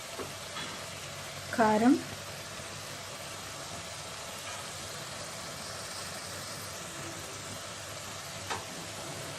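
Koramenu fish curry ingredients frying and being stirred in a pan, a steady soft sizzle throughout, with a brief spoken word partway through.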